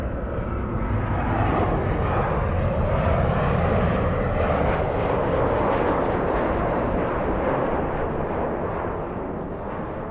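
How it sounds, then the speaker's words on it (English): A Southwest jet in Arizona One livery arrives at Los Angeles International, its engine noise a loud, dense, continuous rumble and rush that holds steady and eases off slightly near the end. "We have the Arizona 1 livery coming in. Flying in from San Francisco, Southwest 3505."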